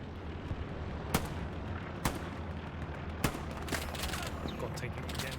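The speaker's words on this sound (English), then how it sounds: "got taken again, taken down by a machine gun" Gunfire in the video game Hell Let Loose on Utah Beach: a few sharp, separate shots crack over a dense, rumbling battlefield din, with occasional bursts that fit machine gun fire.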